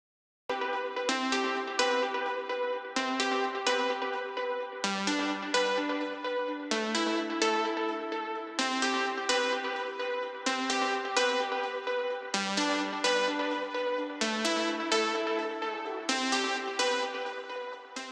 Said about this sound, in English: Then I have the break melody.